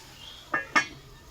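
Two quick metallic clinks, a lighter tap followed by a sharper clang, as a lid settles onto a cooking pan in an otherwise quiet kitchen.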